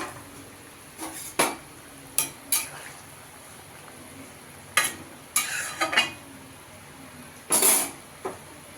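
Fried katla fish goes into a boiling curry of potatoes and ridge gourd, with scattered clinks and clatters of utensils against the pot and brief stirring scrapes over a faint low simmer, close by.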